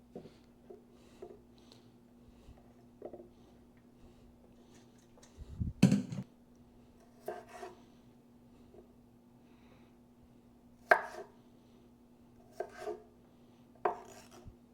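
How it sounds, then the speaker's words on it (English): Potatoes being chopped with a knife on a cutting board in a home kitchen: sparse, scattered knife strikes and scraping, with one louder clatter, spread over a quiet background hum. "So we're gonna chop up these golden little gems here"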